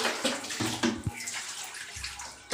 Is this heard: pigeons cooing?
no